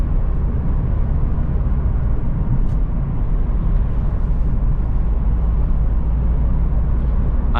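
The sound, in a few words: Opel Astra H TwinTop diesel engine cruising in sixth gear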